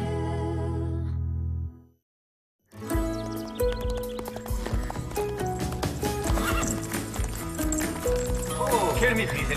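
A cartoon horse gallops with quick, busy hoof clip-clops and whinnies. The sound is loud and close under bright music, broken by a brief silent gap near the start, with a voice heard partway through.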